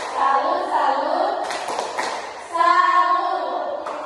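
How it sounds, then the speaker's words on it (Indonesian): Children in a classroom teaching simulation perform the 'tepuk salut' clapping chant, with steady sung voices and rhythmic hand claps throughout, loud and close. "Yuk kita melakukan tepuk salut."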